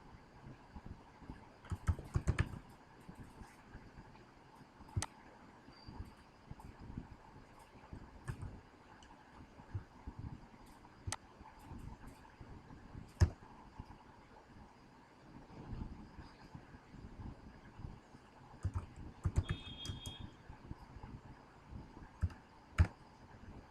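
Computer keyboard keys clicking in short irregular bursts during a basic computing lesson, with a slightly louder keystroke like the enter key, fairly faint against a steady low room hum.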